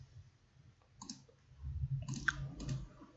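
Computer mouse clicks while working in MS Word, a handful of quiet, sharp clicks in small clusters over faint background noise, close to the microphone.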